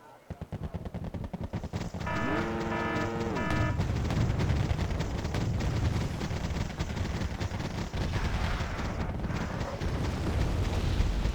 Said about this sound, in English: So we have cluster bombs here dropped, which my Abrams manages to deftly dodge, but then we have napalm